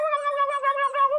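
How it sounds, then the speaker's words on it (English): A turkey's gobbling call: one continuous, warbling, throaty cry lasting about a second, close and clear with no other sound around it. "turkeys say something that sounds like gobble gobble"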